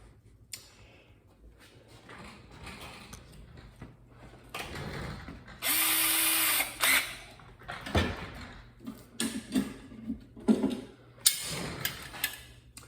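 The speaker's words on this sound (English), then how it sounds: "I'm going to pre-drill with a 1/8 inch drill." A power drill pre-drills holes with a 1/8 inch bit while a folding shelf is mounted in a garage. It whirs in a short burst, surrounded by clicks, clatter and handling noises from nearby work.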